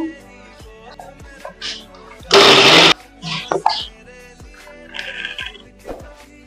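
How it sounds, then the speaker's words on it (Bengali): A kitchen mixer grinder briefly whirring garlic and chopped onion, one short loud burst of about half a second, surrounded by quieter kitchen clatter and speech. "দিয়ে এটা আমি একটু জাস্ট হালকা করে ঘুরিয়ে নেবো মিক্সিটা"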